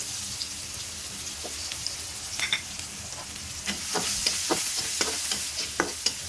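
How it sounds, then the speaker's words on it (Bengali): Onions sizzle in oil reused from frying fish, a close, moderate hiss with scattered crackles and spatula scrapes that grow busier in the second half, and no speech. "পেঁয়াজ দিয়ে দিচ্ছি।"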